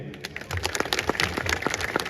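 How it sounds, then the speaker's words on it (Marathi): A crowd at a village band event in Satana claps for a brother-in-law, with dense applause rising after a short start and continuing steadily. "2 टाळ्या माझ्या दाजींसाठी झाल्या पाहिजे."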